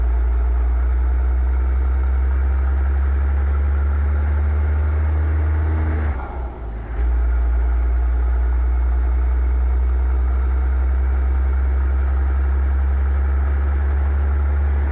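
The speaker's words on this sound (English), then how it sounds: "I'm pulling a 605 horsepower cat engine." A truck with a 605 hp Cat engine in American Truck Simulator drones steadily on a hill pull, with a brief dip midway before the deep engine hum resumes at constant loudness, no voices.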